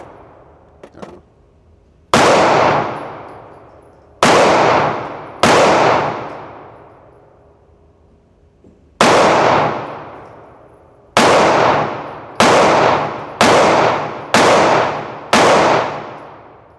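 Shots from a Glock 40 Gen4 pistol ring out loud and close, about ten sharp reports, each with a long decaying echo, spaced irregularly and then quickening into a faster string near the end, with no talking.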